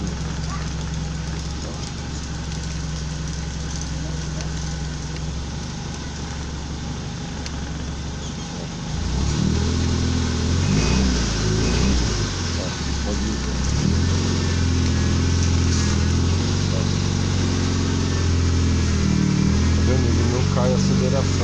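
The engine of a VW Gol with newly fitted power steering idles, then rises as it is revved while the steering is turned to full lock, a loud, rough mid-pitched drone that dips slightly, with someone talking throughout.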